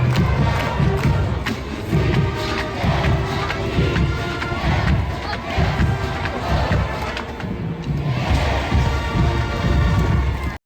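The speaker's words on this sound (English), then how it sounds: "Clemson fans clap along until the song repeats itself, where they cheer." A large crowd of Clemson football fans roars and cheers at a game in a stadium, a loud rolling wash of voices swelling in waves with rhythmic clapping pulses underneath.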